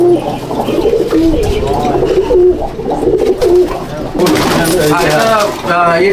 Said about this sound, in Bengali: নর পায়রা সব।